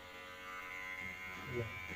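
An electric razor clipper hums steadily at close range, a faint even buzz with light handling noise near the end.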